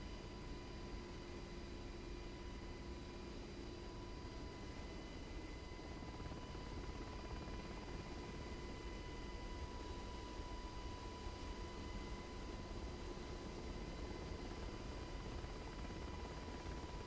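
A UH-60L Black Hawk helicopter flies in a flight simulator game, its engine and rotor making a steady, unbroken drone with a whining turbine tone throughout.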